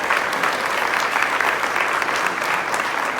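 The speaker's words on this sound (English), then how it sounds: "Give John a round of applause." Crowd at a West Virginia mine wars museum dedication gives a man a round of applause, a steady, full wash of clapping from many hands, moderately loud and unbroken.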